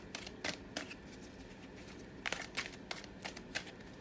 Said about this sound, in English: Can you see that while I keep shuffling?